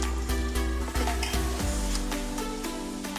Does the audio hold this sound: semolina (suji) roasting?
yes